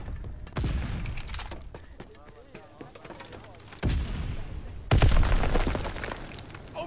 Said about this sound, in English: Stun grenade first!